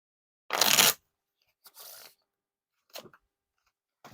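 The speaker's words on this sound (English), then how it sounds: "And now time for the riffle shuffle or bridge shuffle." Red Bicycle Cyclist playing cards run through a riffle shuffle, heard as a sharp close burst of rapid flicking, followed by a softer brief ruffle and a few faint taps, separated by silence.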